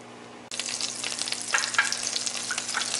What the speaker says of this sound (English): take that butter that came with your Blue Apron package and throw it right in the pan